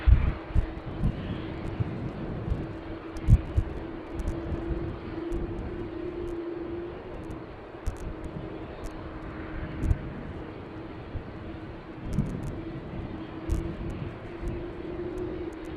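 A fixed-wing airliner arrives on runway 27 at Amsterdam Schiphol Airport on a windy day, its engine roar a steady low drone under gusty wind buffeting the microphone, with occasional clicks.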